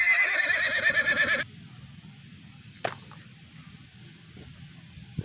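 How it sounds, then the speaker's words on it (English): A horse whinnies loudly and close for about a second and a half with a shaky, trembling pitch, then goes quiet over low background rumble with a brief sharp click. "horse"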